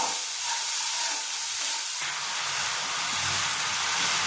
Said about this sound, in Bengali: এবার মশলাটাকে ভালো করে কষিয়ে নেব যতক্ষণ না কাঁচা গন্ধটা চলে যাচ্ছে